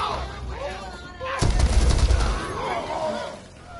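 Gunfire in the game Deathloop: a dense burst of shots and impacts erupts midway, loud and close, amid game sounds and a voice talking.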